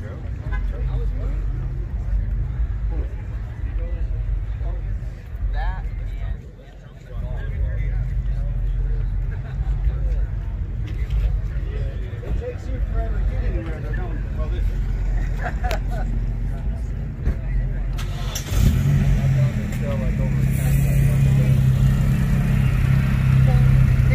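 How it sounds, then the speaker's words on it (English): Cars rolling through a Starbucks drive-thru at a cars and coffee meet, a low engine rumble that swells near the end, with people talking throughout. "You got to go through the drive-thru to get some coffee with your car."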